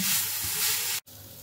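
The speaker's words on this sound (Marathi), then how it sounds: "आता हा मसाला व्यवस्थित भाजून झालेला आहे" Steady hissing sizzle of misal masala spices dry-roasting in a hot pan, with a brief stir and a short break near the end.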